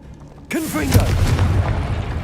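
Casting the Confringo fire-blast spell in Hogwarts Legacy sets off a sudden loud burst, followed by whooshing, crackling magical debris and rumbling that linger at close range, with a voice heard under the blast.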